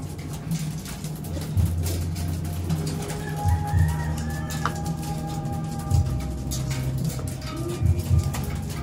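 Pet breeding pigeons in a loft coo softly in low, repeated phrases, close by, while chirps and other bird calls sound intermittently in the background.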